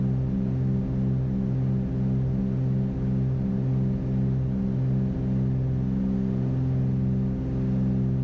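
A small propeller airplane climbing out after takeoff, its engine droning loud and steady with a throbbing, pulsing hum heard from inside the cabin, with no voices.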